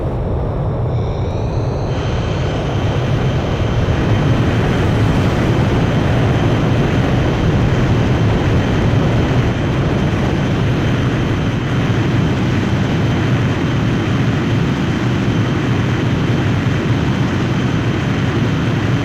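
A fighter jet launches off a carrier catapult in the Ace Combat 5 video game. Its engine makes a loud, steady roar that holds close and unbroken the whole way through.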